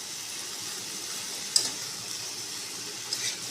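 Black mustard paste sautéing in a pan gives off a steady hiss and sizzle, with a couple of faint stirring scrapes.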